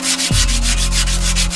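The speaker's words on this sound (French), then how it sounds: "Place au ponçage soigneux de la pièce." Careful sanding of an eccentrically turned wooden pepper mill spinning on a lathe, a loud, continuous abrasive rasp that pulses in an even rhythm over a low steady motor hum.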